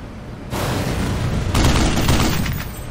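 A .50 cal gun in the game Black Mesa firing continuously, a loud dense roar of rapid shots that gets heavier partway through and stays sustained without a break.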